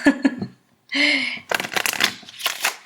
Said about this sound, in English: I like to riffle, shuffle,